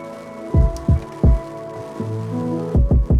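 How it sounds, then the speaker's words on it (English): Deep, punchy kick drum hits from an MPC Live 2 in a loose lofi hip-hop pattern, single and doubled thumps over a sustained ambient tonal background, played alone without any voices. "this is just the kick that I always choose lately."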